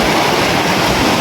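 A big ocean wave crashing onto a beach, a loud, close, continuous roar of surf and churning water.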